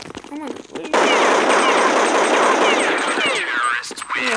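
Rapid gunfire in Counter-Strike 1.6 played on Android, a loud continuous automatic burst lasting several seconds, with someone talking briefly before and after.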